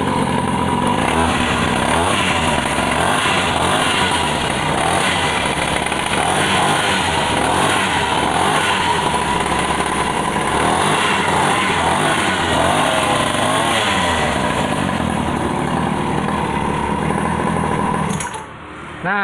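A freshly fuelled RFZ Thunder 50cc two-stroke automatic scooter starts and is revved, a loud, buzzing high-pitched engine note held close and continuous before it cuts off at the end.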